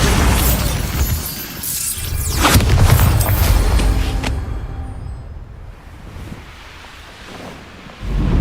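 A Bombarda blasting spell detonates in Hogwarts Legacy, a loud booming explosion with a shattering crack and rumbling tail that fades into wind-like noise before another thump near the end.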